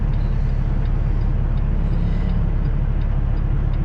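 Steady, loud low-frequency drone of a Cummins diesel engine in a Peterbilt 579 truck, heard from inside or close by, droning evenly without breaks and with no one talking.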